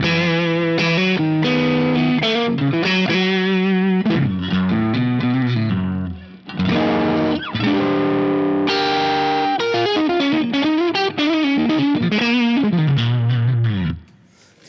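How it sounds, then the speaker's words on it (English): Electric guitar fitted with a Hyperswitch pickup selector, set to a Strat-like coil combination and played through effects, with strummed chords and quick melodic runs ringing loud and alone, then a brief pause and more playing. "Now we can do something to give it a little more traditional Strat-like sounds."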